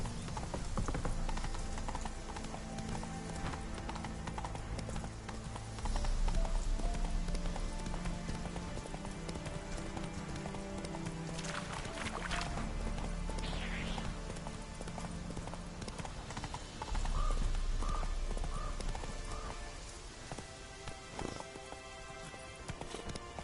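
Horse Roach gallops through The Witcher 3: Wild Hunt with rhythmic, close hoof clip-clop under steady rain, the pace surging and easing over the clip; a brief whinny may be heard.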